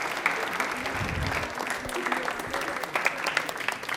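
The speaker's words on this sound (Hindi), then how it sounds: "इनके लिए तालियां जोरदार बजा दीजिए एक बार।" Loud, continuous applause from a quiz show studio audience, many hands clapping steadily throughout, with a few brief voices and low thumps under the clapping.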